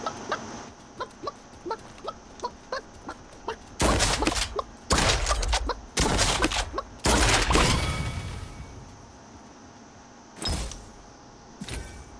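A chicken clucks in the Realm Royale video game with repeated short clucks, while loud bursts of gunfire and action sounds repeatedly cut in over it.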